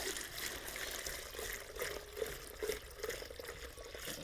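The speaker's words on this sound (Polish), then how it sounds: "Z tego zbiorniczka odleję sobie troszeczkę wody" Water poured from a small tank into a spouted bucket, a steady faint trickle and splash running throughout with a few brighter drips.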